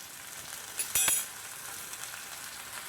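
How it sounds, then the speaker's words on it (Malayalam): Onions sautéing in a pan with turmeric powder, crushed pepper and ginger paste: a steady low sizzle with one brief louder scrape or stir near the middle, no voices. "നന്നായിട്ടൊന്ന് വഴറ്റിയെടുക്കാം ആ പൊടിയുടെ പച്ചമണമൊക്കെ ഒന്ന് മാറുന്ന വരെ നമുക്കൊന്ന് വഴറ്റി കൊടുക്കാം"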